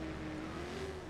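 A car drives in Watch Dogs with a steady, close engine drone and a faintly rising pitch, heard alone for about a second without voices.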